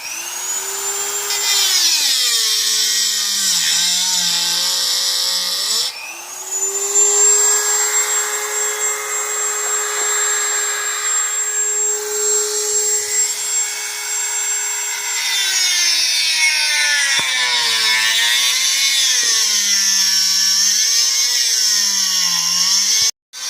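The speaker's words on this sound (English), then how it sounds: "was using the Dremel there to cut a keyway into the shaft" A Dremel rotary tool grinds a keyway into a pit bike kickstarter shaft, a loud, sustained high whine that dips and recovers in pitch as the bit bites into the metal, running almost without a break.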